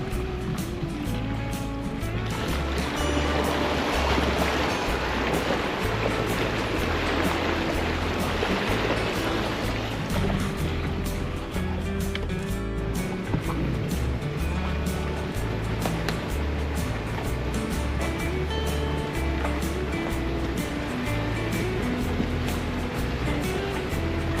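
A creek rushes in a steady, loud wash right beside a Jeep on an overlanding trip, with a low engine rumble running underneath throughout.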